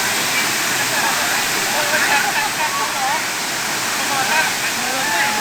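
A continuous loud rush of cascading water at Huai Mae Khamin waterfall, Kanchanaburi, fills the air, with faint voices of people talking woven underneath the roar.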